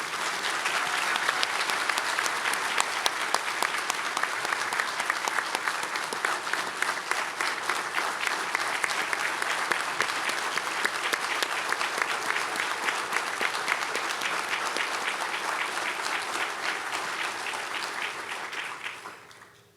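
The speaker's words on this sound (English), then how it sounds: "can we get one more round of applause for all of our recipients?" Sustained audience applause for award recipients at a service awards ceremony fills the room, many hands clapping evenly and loudly for about twenty seconds before tapering off abruptly.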